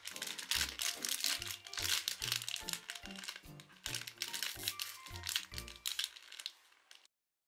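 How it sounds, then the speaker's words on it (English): Plastic packaging on a YumeTwins subscription box crinkles and crackles close up as it is torn open by hand without scissors, with bursts of rustling and sharp cracks that stop abruptly at the end. "I realize I forgot scissors. I'm crying. So I'll be cutting this."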